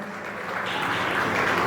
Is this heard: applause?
yes